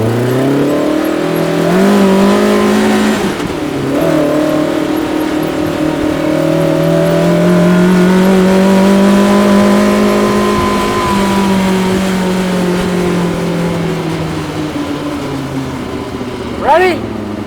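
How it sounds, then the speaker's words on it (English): A go-kart fitted with a Yamaha R6 motorcycle engine revs loudly and steadily up and down, its high whining tone rising and falling close by, with a sharp rev spike near the end; voices talk over it. "Well, motor's in the go-kart."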